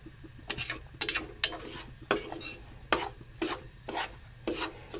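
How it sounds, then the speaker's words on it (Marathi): Semolina roasts in a pan for a cucumber sheera while a spoon stirs it in quick, rhythmic scraping strokes, close and distinct, with a faint sizzle underneath. "हा बघा आता इथे रवा खरपूस भाजायला तयार होत आहे"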